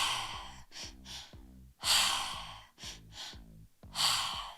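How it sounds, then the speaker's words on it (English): Quick, audible breathing in a repeating pattern: two short sharp inhales through the mouth followed by one longer exhale through the nose, close and clear, with no talking. "it is 2 breaths in through the mouth, 1 breath out through the nose."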